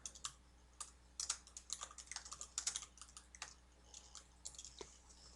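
Typing on a computer keyboard to enter a comment, with quick irregular bursts of soft key clicks that are close and faint and carry no speech.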